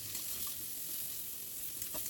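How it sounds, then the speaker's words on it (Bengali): Food frying in hot oil gives a steady, close crackling sizzle with small pops throughout and no voices. "এটা একটু ভেজে নেব।"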